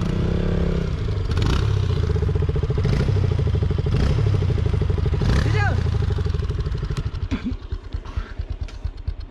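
A KTM Duke 200 rumbles along a rough, rocky track in Nepal, its steady engine punctuated by several clattering jolts and scrapes from the bumpy ground, then easing off and thinning toward the end.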